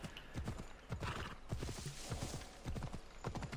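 Horse hooves clip-clopping in a steady rhythm while riding through a swampy area in Assassin's Creed Odyssey, close and clear, with a brief whinny and no talk.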